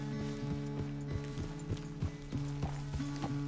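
Horse hooves clip-clopping at a steady walking rhythm in Red Dead Redemption 2, close and regular, over a sustained low musical drone.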